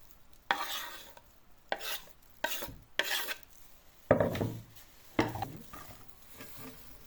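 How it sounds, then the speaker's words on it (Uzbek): Onions being chopped finely for a cabbage salad, with several separate bursts of knife-on-board cutting and short pauses between them, close and moderately loud with no talking. "Mayin qilib piyozlarimizni to'g'raylik."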